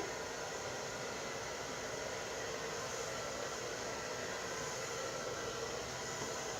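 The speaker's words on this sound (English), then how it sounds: "we have our blow dryer on the highest heat setting but the lowest speed" A blow dryer on its highest heat and lowest speed hums with a steady, soft whooshing airflow, constant and unbroken from start to finish.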